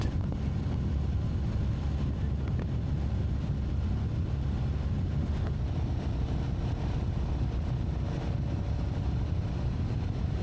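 A Royal Enfield Meteor 350 motorcycle cruising along a long straight country road, with a steady low engine drone and constant wind rush, continuous and even throughout.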